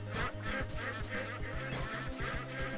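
Cartoonish ducks quack repeatedly in the video game Legend of the Brofist, in rhythmic bursts over steady, pulsing game music with no talking.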